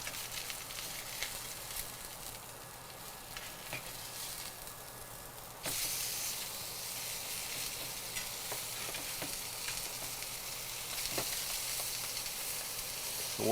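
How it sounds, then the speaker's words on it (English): Swordfish steaks sizzle and fry in a pan with puttanesca sauce, a steady close hiss that jumps louder midway as the steaks are flipped, with a few faint clinks, no talk. "The swordfish steaks have been cooking for about, say about 4 minutes"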